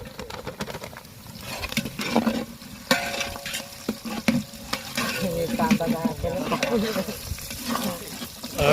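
Green chilli, ginger, garlic and curry leaves fry in a pan at an outdoor riverside cook-up, with steady sizzling and clattering stirs, and birds and voices faintly audible behind.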